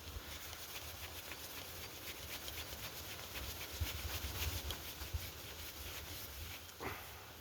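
Wax is rubbed onto a bow string in a steady, faint, rasping friction sound, with repeated back-and-forth strokes heard up close. No voices.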